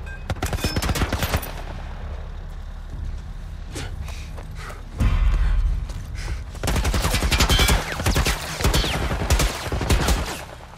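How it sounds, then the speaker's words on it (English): Sustained automatic fire from a military turret in The Last of Us Part 1, loud rapid bursts that stop briefly mid-clip and then come back just as dense. "What are they shooting at us with? Some kind of military turret."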